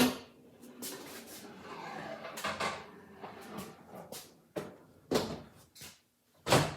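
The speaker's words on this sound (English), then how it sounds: "I'm going to lower the dome." Glass dome on a Rock-Ola 1454 jukebox being lowered: a run of scraping, sliding rattles and several sharp knocks and thumps, close by and fairly loud, with no talk.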